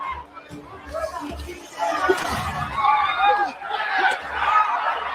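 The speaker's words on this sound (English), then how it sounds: "Crowd erupting" A boxing crowd at a Mike Tyson fight against Ruddock roars and chatters in a continuous, swelling wash of cheering voices, rising louder toward the middle and staying dense to the end.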